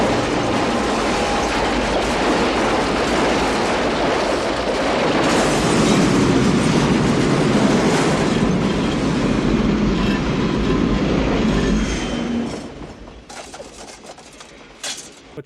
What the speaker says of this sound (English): The DeLorean gets destroyed by an oncoming train.